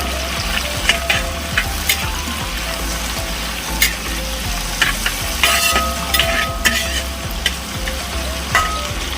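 Chopped ingredients for a Kerala fish molee sauté in a hot pan, a loud constant sizzle broken by frequent scraping and clattering stirs of a spoon, close up with no voices.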